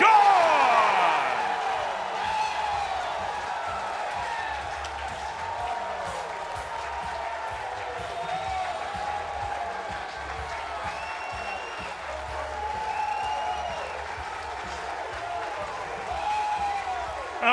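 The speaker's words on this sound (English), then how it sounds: "A roar from this blue-clad crowd as the Citadel takes a 2-1 lead." A college baseball crowd of Citadel fans, dressed in blue, roars and applauds after a home run at a ballpark. The cheering is a steady, moderately distant wash under a commentator who talks throughout.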